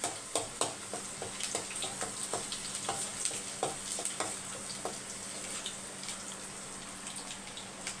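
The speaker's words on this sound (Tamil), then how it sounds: "பூண்டு இந்த அளவுக்கு பொரியணும்" Garlic sizzles in a hot pan while being stirred for vegetable fried rice: a steady close-up crackle with frequent sharp clicks of a spoon against the pan, and no voices.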